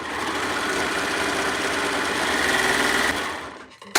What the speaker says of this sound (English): I love my serger.